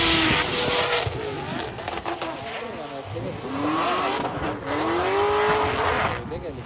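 Drift cars at a drift event scream through slides with rising and falling engine revs and tire squeal at mid distance, a continuous roar with repeated surges, and people talk over it.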